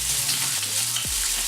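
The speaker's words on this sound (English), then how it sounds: "I hope you can hear me over the sound of the sizzling bacon" Bacon sizzles steadily in a pan, a dense, close hiss with crackles, over a low hum and without a break.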